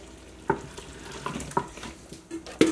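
Chicken with spices is stirred in an Instant Pot, with a few scraping strokes and soft clinks of a utensil against the metal pot over a quiet, faint sizzle.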